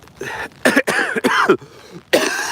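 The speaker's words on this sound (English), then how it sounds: "excuse me, I still have a bit of a cough" A series of harsh, raspy coughs close to the microphone, several bursts in quick succession with short pauses between them.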